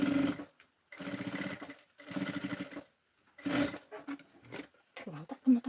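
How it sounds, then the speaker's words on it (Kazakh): Sewing machine stitching the second end of a flamingo soft toy, running in three loud steady bursts with pauses between, followed by shorter handling sounds and a brief spoken voice. "Енді мынау екінші ұшын тігіп алайық."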